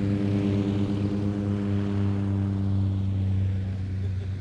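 An Antonov An-2 biplane roars with a steady, loud radial engine and propeller drone during its takeoff roll, a continuous close, even hum with strong throbbing tones.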